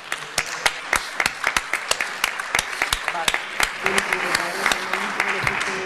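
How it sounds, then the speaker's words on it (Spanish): Deputies applaud in a parliamentary chamber in Chile, the sharp, sparse claps standing out over a murmur of voices and room noise. "Yo, respetuosamente pido una ovación y un aplauso para esta idea."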